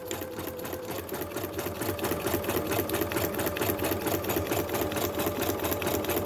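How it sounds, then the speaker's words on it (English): Sewing machine stitching through journal pages, running in a steady rapid mechanical whir that picks up pace after a brief slower start, close and continuous with no talk. "I'm sorry for the sewing machine noise."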